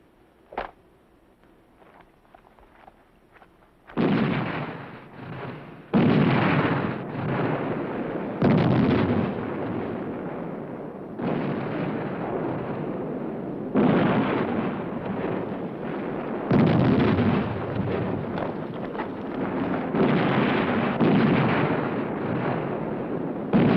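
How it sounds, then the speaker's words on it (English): Artillery barrage at El Alamein, with heavy booms and rumbling blasts rolling in repeated loud waves, the sound sustained and dense. "Order the artillery to stop as briefly as possible."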